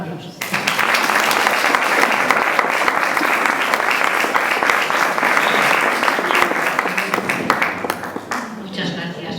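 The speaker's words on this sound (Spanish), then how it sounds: "Un aplauso." Loud, sustained applause from the audience at a Women Writers' Day event in Bilbao, dense and close, holding steady for most of the clip before tapering at the end.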